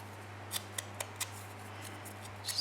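Scissors trim paper for a junk journal, a handful of quick, crisp snips spaced irregularly over a quiet background with a low steady hum.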